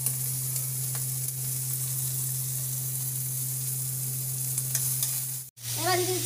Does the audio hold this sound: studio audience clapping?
no